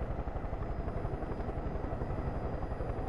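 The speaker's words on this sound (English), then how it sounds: "I've had this chopper for a long time." A helicopter in the video game Far Cry 5 idles with a steady, dense rotor thrum that stays even and close throughout.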